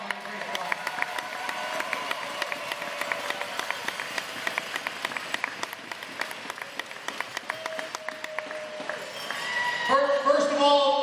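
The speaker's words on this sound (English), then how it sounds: "Let's give these guys on the ice a round of applause." Crowd applause for ice hockey players at a tournament celebration, steady clapping throughout, with a louder surge near the end and voices mixed in.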